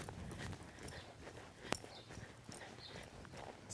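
A horse walking under a rider during barrel-racing practice, hooves giving soft, irregular clip-clop steps against a low, noisy outdoor background, with one sharp knock partway through.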